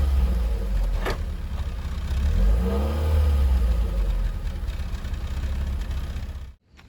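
A Volkswagen Versailles GL sedan with about 174,000 km on it revs while driving, its mid-pitched engine note rising and falling steadily up close before cutting off abruptly at the end.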